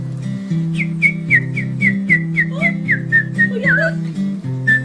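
A person whistles a bright, chirping bird-like tune in a children's stage show about the seasons, a run of short rapid trills over a steady sung melody with accompaniment, imitating a small bird.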